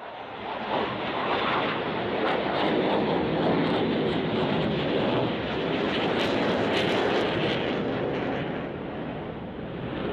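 A Dassault Rafale fighter jet flown by an Indonesian Air Force pilot roars in a steady, loud, broadband rush that holds for the whole stretch, with no voices over it.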